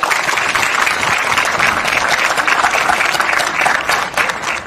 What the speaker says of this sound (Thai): การปรบมือพร้อมๆกันครับ